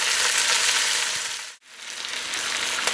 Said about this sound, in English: we'll just give that about another 5 minutes just to soften the garlic up a little bit, and also the onions